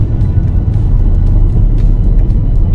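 A Citroën C4 VTR accelerates at city speed, heard from inside as a low, steady engine rumble that stays close and loud with no clear rise in pitch.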